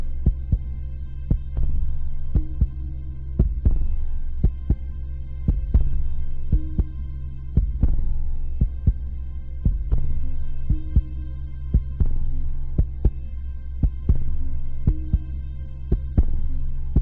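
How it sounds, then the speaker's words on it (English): A music kick drum shaped to sound like a heartbeat, thumping in regular double pulses over a steady low droning hum, loud and prominent throughout with no voices. "I made the kick sound like a heartbeat."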